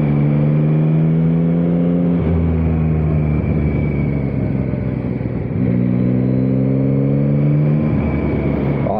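A 2021 Yamaha MT-09 roadster motorcycle engine while riding, a loud close droning rumble that rises through gears in two smooth revving pulls separated by quick shifts, steady wind noise beneath, no talking.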